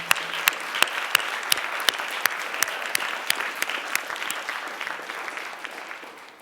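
An audience applauds Schlesinger staff at a Radcliffe Institute event, sustained clapping from a sizable crowd that begins with sharp individual claps and slowly tapers off.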